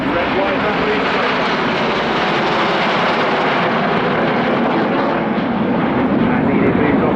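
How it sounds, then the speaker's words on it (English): Display jet aircraft banking overhead at the RIAT airshow, trailing red, white and blue smoke, giving a loud, steady broadband roar that fills the whole stretch without a break. "The aircraft banking round to the right as Red 9 puts his patriotic red, white and blue smoke."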